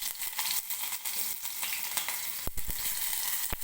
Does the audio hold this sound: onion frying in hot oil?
yes